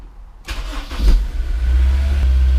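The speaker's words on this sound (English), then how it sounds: "Start the car." A Honda S2000 engine cranks and catches, then settles into a steady low rumble as it idles, close and loud.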